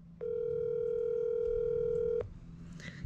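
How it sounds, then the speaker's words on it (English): A telephone gives a single steady electronic tone for about two seconds while a call is being dialed, then drops to faint background noise. "Currently dialing."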